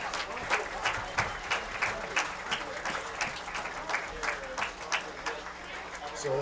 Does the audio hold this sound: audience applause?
yes